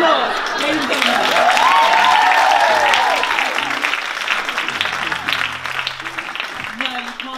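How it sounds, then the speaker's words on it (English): Comedy show audience breaks into loud applause with some chuckles, clapping peaking early then thinning out, while a voice speaks over it. "Okay, a round of applause."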